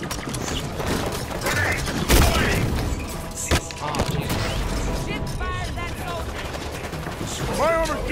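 Ship fire in the shooter game Halo 5: Guardians, heard as bursts of gunfire, booms and mechanical clatter over continuous game noise, with players talking during co-op play.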